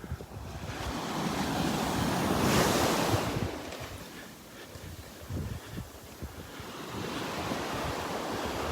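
Surf rolling onto a beach on Marco Island, Florida, a steady roar of breaking waves that swells to a peak early on and then settles, with gusts of wind buffeting the microphone and no talk.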